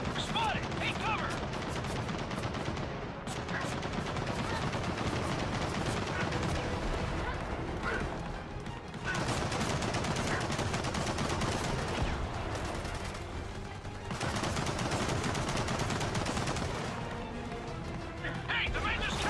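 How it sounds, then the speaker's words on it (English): Machine gun nest firing in the Gears of War 4 video game, sustained rapid bursts of gunfire and explosions filling the scene, loud and dense, with game voices shouting over the battle. "Machine gun nest!"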